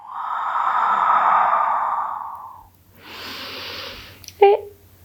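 Slow, deep breathing in a prenatal yoga class: a long, steady audible inhale, then a softer exhale ending in a brief nasal puff, close and with nobody talking.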